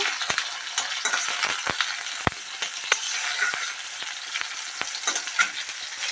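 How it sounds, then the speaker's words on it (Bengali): Chopped onion sizzles in hot oil while a spoon stirs it, scraping and clinking against the pan in irregular sharp strokes over a constant frying hiss, close and without speech. "পেঁয়াজটাকে একটু নেড়ে নেড়ে লাল করে নেব"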